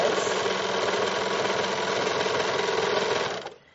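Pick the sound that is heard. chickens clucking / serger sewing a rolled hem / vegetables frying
serger sewing a rolled hem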